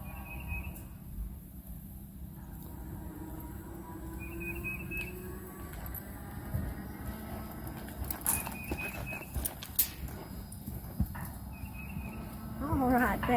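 Horses on a Priefert horse walker clip-clop faintly at a trot amid a low mechanical hum, with short whistles and a whinny near the end, while people talk nearby.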